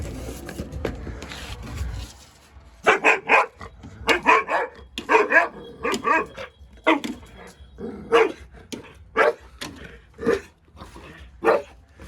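A dog barks repeatedly in short, loud bursts, close by, with brief pauses between barks and some quieter rustling before the barking begins.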